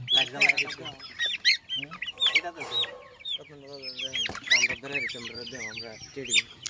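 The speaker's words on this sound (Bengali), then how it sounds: "এটা হচ্ছে মুরগির ঠোঁট ছেঁকা দেওয়া, যাতে মুরগি ঠুকরাঠুকরি না করতে পারে" Chickens squawk and cluck loudly and close by while their beaks are being trimmed, with agitated, overlapping calls throughout.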